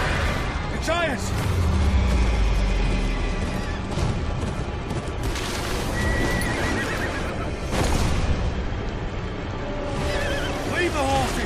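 Horses neigh and whinny sharply while hooves clatter in the Game of Thrones: Kingsroad video game, mixed with crashing impacts and game noise in a dense, loud soundscape.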